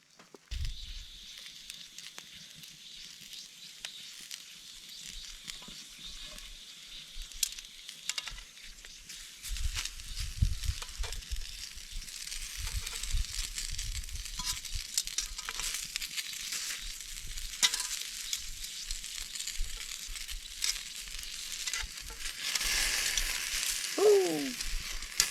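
Food sizzles in a pan over a campfire outdoors, a faint, steady hiss with scattered crackles and occasional thuds and rustles nearby; a brief whistling chirp sounds near the end.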